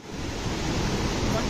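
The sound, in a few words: river and waterfall rushing below a small bridge, Kedarnath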